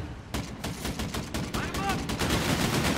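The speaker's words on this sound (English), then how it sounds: "Oh, we have a pistol. It's like, takes 5 shots." Pistol fire in the shooter game Call of Duty: Infinite Warfare, Infected mode, a rapid string of sharp gunshots at steady rhythm, fairly quiet and close, with other game effects beneath.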